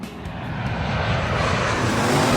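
An airplane on final approach to runway 23R/05L at Manchester Airport, heard from directly beneath the flight path, gives a loud, steady broadband engine roar that slowly swells as it passes overhead.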